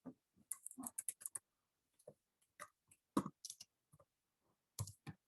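Someone types on a computer keyboard while writing text in MS Word, with quiet, close key clicks in irregular bursts and short pauses between them and no talking.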